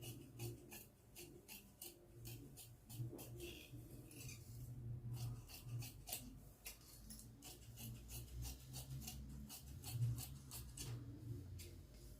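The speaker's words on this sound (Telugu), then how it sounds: "మనం ఏ విధంగా మార్కింగ్ చేసుకున్నామో దాని ప్రకారంగా కటింగ్ అనేది చేసేస్తున్నాను" Scissors snipping through blouse fabric along marked lines, a steady run of soft close rasping cuts and rubbing over a low background hum, without talk.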